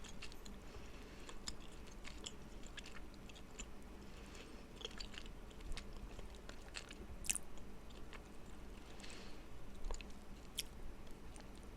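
Close, quiet chewing of a lemon-flavored Canadian candy, with soft crunches and moist mouth sounds repeating steadily throughout and no speech.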